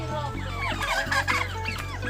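A pair of turkeys, one male and one female, cluck and call close by in a rural yard, with quick overlapping gobbling bursts over a low steady hum.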